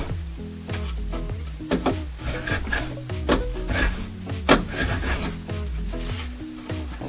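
A hand plane shaves wood off a drawer in repeated rasping strokes with scraping, rubbing texture, fairly close and steady with no talk.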